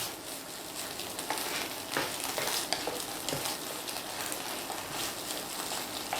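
Mustard paste sizzles and spatters in hot oil in a pan for shorisha ilish, a continuous crackling fry with occasional stirring scrapes, close and fairly loud throughout.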